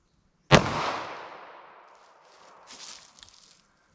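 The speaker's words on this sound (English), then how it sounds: "All right, let's hit that with our 32 H&R Magnum." A single loud gunshot from a .32 H&R Magnum fired into a ballistic gel block outdoors, a sharp crack with a long fading echo, followed by faint rustling.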